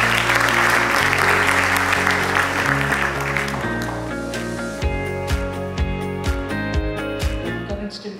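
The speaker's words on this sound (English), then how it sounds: "Give a huge round of applause." An audience applauds as a guest speaker is called to the stage at a tech talk. The clapping is dense early on and is soon buried under loud, bright stage music with sustained tones and beats.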